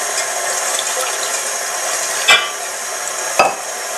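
A whisk or spoon mixing pancake batter of eggs and milk in a bowl, a steady close scraping and swishing that runs throughout, with two sharper knocks against the bowl near the end.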